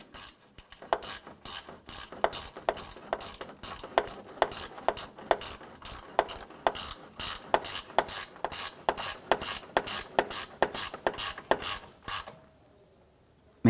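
A ratchet snugs up radiator mounting bolts on a 2004-2015 Nissan Titan, giving a steady series of sharp, close clicking strokes for about twelve seconds before stopping, with no talking.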